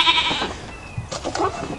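Farm goats give a couple of short, nasal bleats close by, overlapping with the rustle and clatter of a small backyard pen.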